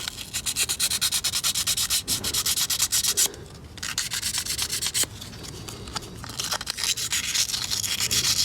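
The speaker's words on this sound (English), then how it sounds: "a very small piece of very thin sandpaper, and I'm going to try to just slowly, just only for the rust" Thin sandpaper rubs rust off the water pump shaft of a BMW F650GS Dakar motorcycle, a close, rapid back-and-forth scratching in steady strokes with a few brief pauses.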